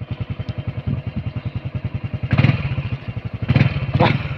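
A motorcycle engine idles nearby with a steady rapid pulsing putter, punctuated by a couple of louder clattering bursts.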